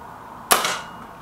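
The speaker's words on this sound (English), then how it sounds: "last shot for the MP500." A single sharp crack from an MP500 air pistol as it fires a pellet at a paper target, close and loud, with a short, bright decay after the shot.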